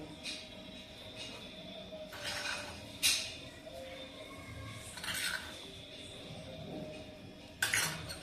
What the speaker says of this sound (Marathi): आता आपण हे सर्व मिक्स करूयात। आधी आपण त्याला चवीप्रमाणे मीठ टाकूयात।